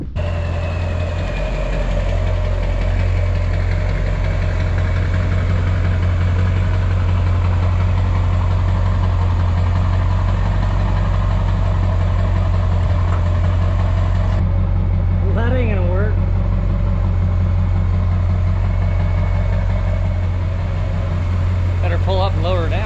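A truck engine idles nearby with a steady, low rumble and a faint knocking pulse throughout, continuing unchanged as the background shifts slightly partway through.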